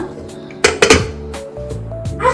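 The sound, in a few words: mashing boiled potatoes and peas in a pot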